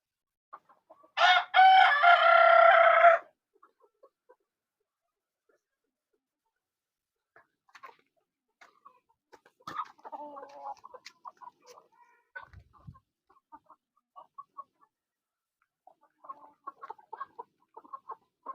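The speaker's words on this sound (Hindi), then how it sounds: "ये हमारी ओरिजिनल गावरान की मुर्गियाँ है" Desi gavran rooster on a farm crows once, loud and close, followed by soft scattered clucking from free-range chickens in the background.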